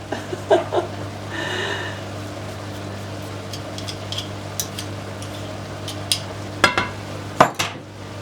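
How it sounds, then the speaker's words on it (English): Minced meat and onions frying in a pan for Greek moussaka, a soft steady sizzle broken by scattered clinks and scrapes of a utensil stirring against the pan. "going to give these a stir around now, and I'm going to wait, not add anything else until the onions have softened"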